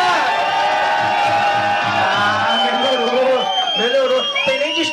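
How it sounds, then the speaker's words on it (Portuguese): A crowd at the final of a Brazilian themed rap battle cheers and shouts continuously, loud and dense, with voices and whoops layered over one another throughout. "Muito barulho pra final, rapaziada."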